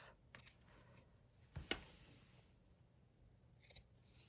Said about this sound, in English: I'm going to cut these edges off.